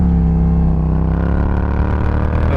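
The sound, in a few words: motorcycle accelerating on throttle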